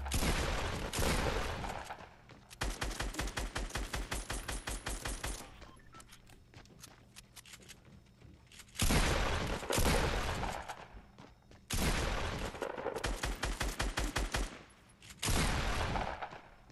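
Bursts of automatic gunfire from the Fortnite video game, several loud rapid volleys separated by short pauses, with quieter single shots and footstep-like thuds in between and no talk over them.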